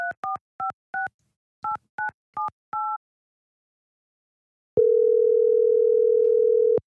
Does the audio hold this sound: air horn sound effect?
no